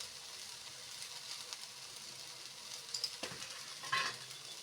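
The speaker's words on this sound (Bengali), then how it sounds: "এখন দিয়ে দিচ্ছি আরো পেঁয়াজ" Onions fry in a pan for homemade chowmein made with rice flour, giving a soft, steady sizzle with a few light clinks of stirring and utensils on the pan.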